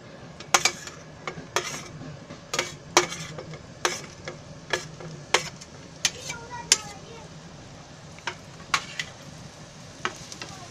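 Onion frying in hot oil in a pan for chivda bhaji makes a soft background sizzle, broken by a run of sharp, close spatula clacks and scrapes against the pan.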